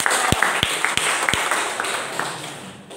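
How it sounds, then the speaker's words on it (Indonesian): An audience applauds at a workers' gathering and discussion session: steady, moderate clapping from a crowd with a few sharp, close individual claps standing out, tapering off near the end. "Kita kasih aplaus."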